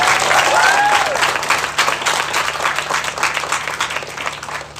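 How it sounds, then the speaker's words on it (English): A graduation crowd applauds its graduates in a long, dense round of clapping that starts loud and fades gradually, with a few cheers and whoops near the start. "can we give the graduates a long round of applause?"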